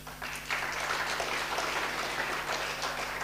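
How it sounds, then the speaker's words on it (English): A summit audience breaks into applause, a steady wash of clapping hands that swells after a brief quieter lead-in and continues evenly for a few seconds. "I think he deserves an applaud for that."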